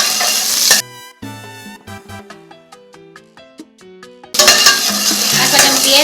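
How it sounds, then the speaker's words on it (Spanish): Chopped onion sautés in a pot with a loud, dense sizzle at the start and again at the end, broken in the middle by a stretch of plucked, tuneful music. "Lo siguiente que voy a añadir ahora va a ser la cebolla que piqué en trocitos y la voy a sofreír"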